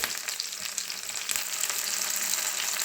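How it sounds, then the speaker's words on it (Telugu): Curry leaves crackle and sizzle in hot oil with red chillies, a loud, steady, close frying hiss with small popping spatters throughout and no voices. "ఇప్పుడు నెక్స్ట్ అయితే మనము దీంట్లో కొద్దిగా కరివేపాకు వేసుకుందామండి"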